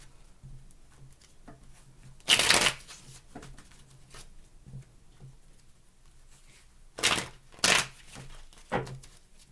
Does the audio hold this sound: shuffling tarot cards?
yes